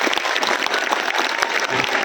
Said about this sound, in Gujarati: ખૂબ બધી તાળીઓથી અમે વેલકમ કરીએ.